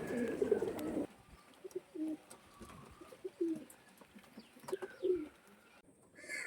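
Andhra flying pigeons from Mangalagiri cooing at close range, several soft low coos repeating irregularly over a steady murmur, with a louder burst of noise at the start.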